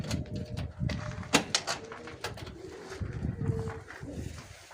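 Pigeons in a Kayseri loft coo and rustle, several soft throaty calls overlapping with wing flutters and clattering, nearby and moderately loud without speech.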